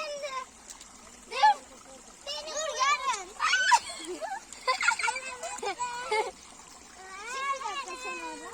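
Children jump and splash into water outdoors, with bursts of splashing and trickling mixed with lively kid voices, shouts and chatter throughout.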